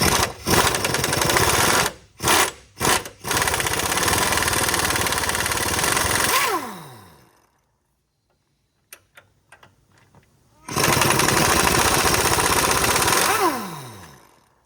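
A power wrench with a 21 mm socket spins a nut off the ball joint during an upper control arm replacement on a 2004–2008 Ford F150. It gives loud close whirring bursts that wind down, then a quiet gap with faint clicks.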